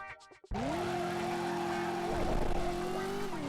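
A car in the PS1 video game Driver drones along at steady engine pitch after a brief pause, the engine note holding level before dipping slightly at the end, loud and close.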